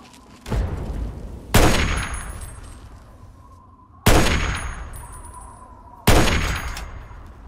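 Laser rifle fire in the game Fallout 3, four sharp cracking zaps at irregular intervals, each with a bright ringing tail that fades over a second or two, loud and close.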